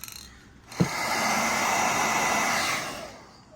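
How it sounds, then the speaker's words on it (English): A blow dryer clicks on and runs with a steady, loud whooshing roar for a few seconds before winding down, no voices. "I'm gonna use a blow dryer to get some of those crinkles out"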